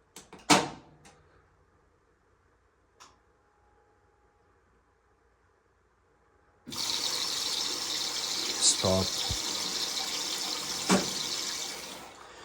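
Cold water filling a Bosch washer that keeps filling, a sudden steady gush of running water starting partway through after a few clicks and knocks, with brief speech before it.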